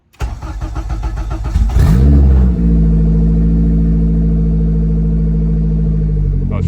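An all-wheel-drive Honda Integra making about 500 horsepower cranks over with rapid starter chatter, then catches and gives a brief rev before settling into a loud, steady, deep idle close by.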